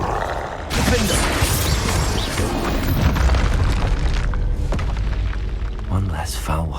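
Spell blasts in the Hogwarts Legacy video game boom and crackle in a dense, loud run of bursts and crashes, with a character speaking over the combat.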